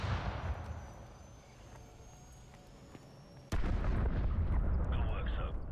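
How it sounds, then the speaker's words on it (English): In the Call of Duty 4: Modern Warfare Remastered campaign, a scattering of distant shots gives way to a sudden loud burst of heavy gunfire and rumbling explosions that carries on to the end. "Pretty nice shooting this"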